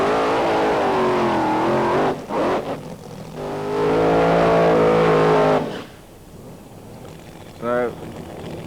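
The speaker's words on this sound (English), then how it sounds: "So they've got their burnouts complete." Nitro drag racing cars at the 1992 Hockenheim Nitro Olympics roar loudly through burnouts, a harsh sustained engine blast with brief cuts and a final rising rev, then quieter idling as a commentator talks.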